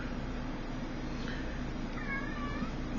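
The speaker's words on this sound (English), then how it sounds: "You have to forgive my cat in the background." A pet cat meows in the background, a few faint drawn-out cries over steady room noise during an RBA vape atomizer build.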